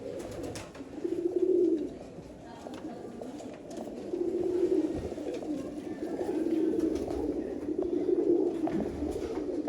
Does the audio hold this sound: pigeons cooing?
yes